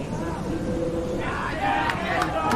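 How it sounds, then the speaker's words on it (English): Crowd at a surf contest in El Salvador cheering and shouting, a loud continuous roar of many voices that swells a little midway, with a few sharper whoops rising above the din. "The crowd went nuts."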